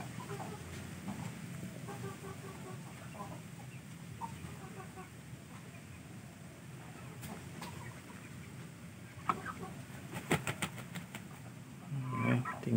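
Young Shamo chickens cluck in a pen, with scattered soft clucks and short calls over low background noise, then sharper scratching clicks and a louder burst of clucking near the end.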